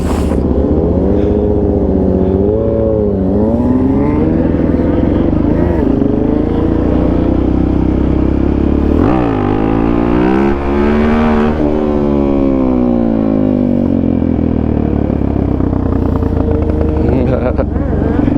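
A stunted Suzuki DRZ motorcycle revs loudly and close during a test ride, with the engine pitch sweeping up and down repeatedly through throttle blips and one sharp surge midway, while a person talks over it.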